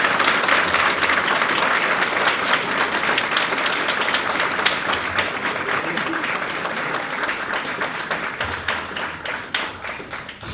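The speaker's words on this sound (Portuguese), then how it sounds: "Salva de palmas" Sustained audience applause fills a formal solemn session honoring a pastor with a citizenship title, steady and dense throughout with a faint voice underneath near the end.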